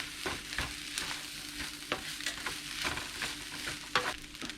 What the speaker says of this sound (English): Stir it pretty good.